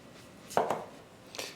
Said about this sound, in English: we need to cut these onions rather thinly into half moons